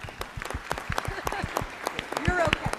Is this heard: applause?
yes